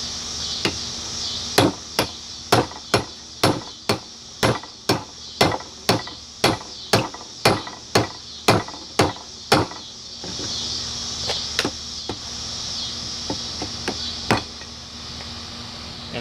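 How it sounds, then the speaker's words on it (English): A hammer strikes a hot chisel over the hardy hole of a blacksmith's anvil. About fifteen sharp, evenly spaced ringing blows come close and loud, followed by a few lighter, scattered taps. "we're going to do it over the hardy hole so the slug comes out"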